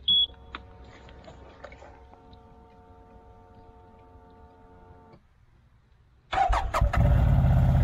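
A stuck four-wheeler ATV is tried, first with a brief beep and faint ticking and humming, then a pause before the engine cranks and catches loudly near the end.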